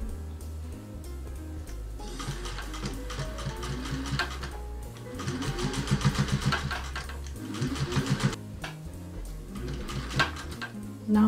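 A sewing machine stitching fabric for a guinea pig cuddle cup bed, running in close, rapid mechanical bursts with short pauses between runs, and no voices.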